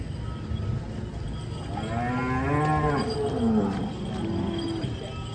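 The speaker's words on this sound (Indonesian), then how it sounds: "Titik penurunan dari sapi monster ini guys." Giant contest cattle being unloaded from a truck give a long, drawn-out moo close by, over a steady background hum.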